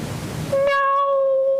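A single human voice mimics a cat's meow, a short drawn-out tonal cry that follows a brief burst of noise.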